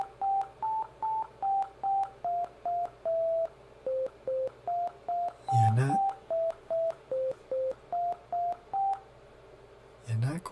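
A simple synthesized Happy Birthday melody generated by ChatGPT plays as a steady run of clean, beep-like single notes, each held briefly, with a short noisy burst partway through and another near the end.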